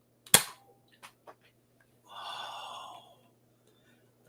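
A Nerf blaster fires with a sharp, close snap, followed by a few small mechanical clicks and then a soft breathy exhale; no talking.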